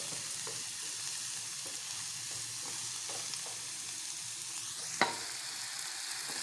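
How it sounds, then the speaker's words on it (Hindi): Chopped onion, green chili and coriander sizzle steadily in a hot pan, a soft continuous frying hiss with a sharp clink of a utensil partway through. "ये हमारी प्याज और हरी मिर्च और धनिया फ्राई हो रहा है।"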